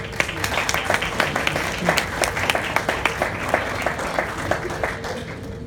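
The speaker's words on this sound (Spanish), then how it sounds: "Recibamos con un fuerte aplauso, por favor" An audience welcomes a speaker at a talk on performance evaluation with steady applause, distinct sharp claps in a fairly regular rhythm over a crowd wash, close and loud for several seconds.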